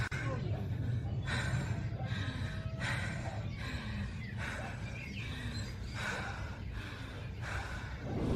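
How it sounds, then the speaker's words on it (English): Frightened people panting hard after running, with a steady train of ragged, gasping breaths that rise and fall about once a second, close and continuous. "judging by their labored breathing after the so-called run"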